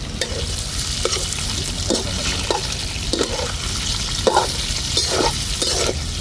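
Cut-up meat stir-fries in a hot pan, a steady loud sizzle broken by repeated scraping and stirring strokes of a utensil at a loose rhythm, close and alone with no talking.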